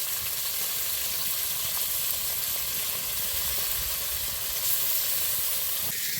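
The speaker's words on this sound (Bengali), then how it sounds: "এটা হলো আমাদি মাছ, আমাদি মাছটা ভাজা হচ্ছে" Amadi fish fries in oil in a pan in a home kitchen, giving a steady, continuous sizzling hiss at an even level with no voices.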